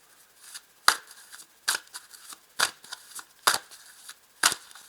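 Tarot cards being shuffled for a reading, several quick riffling bursts at irregular intervals, close and crisp with quiet pauses between.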